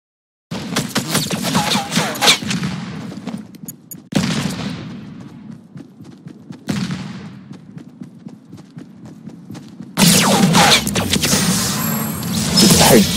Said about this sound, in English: He's like shooting at us